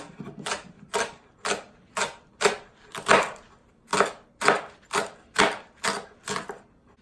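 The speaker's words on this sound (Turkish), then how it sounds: "Şöyle ince ince doğruyoruz pırasalarımızı" Leeks being sliced thinly with a knife on a cutting board, a steady series of about a dozen sharp, close chops at an even rhythm with no talking.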